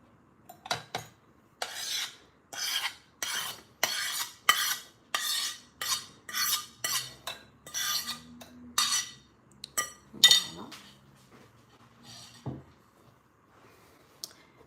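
Mashed bananas are stirred into banana bread batter in a bowl, producing a steady rhythm of about a dozen close, scraping, squelching strokes, each separated by short pauses, with no speech.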